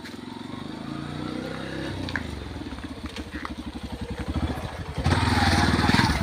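A motorcycle engine chugs with a steady pulsing rhythm as it rides toward a hanging suspension bridge near Sathodi Falls, Shivapura, growing louder toward the end with wind and road noise.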